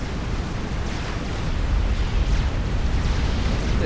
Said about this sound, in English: there's a nuke. Nuke is going to take out some of his battleships.